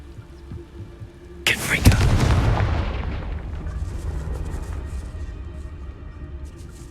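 The Confringo explosive spell in Hogwarts Legacy bursts with a sudden loud crack and a heavy boom, then a long rumbling tail that slowly fades.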